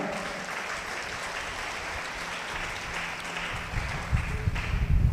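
Church congregation clapping hard during worship, a sustained dense roar of hands that grows louder and heavier toward the end.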